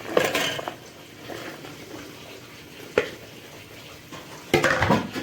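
Vegetables are stirred into masala in a cooking pan, with scattered scraping and clanking of a spoon against the metal over a soft sizzle, including a few sharper knocks and a busier burst of stirring near the end.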